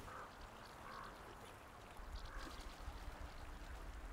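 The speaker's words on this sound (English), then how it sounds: "You listen to the birds." Ducks quack by a creek, several short nasal calls scattered over a quiet bed of trickling water, with a fuller rush of flowing water swelling in the second half.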